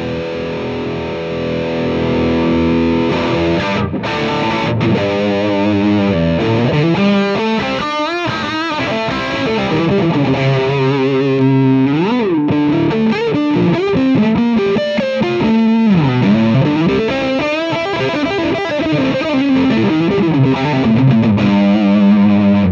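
Distorted electric guitar played through a Mesa Boogie Recto Verb 25 amp set to its vintage channel, a loud, continuous run of chords and melodic riffs with bends, steady and close throughout with no talking.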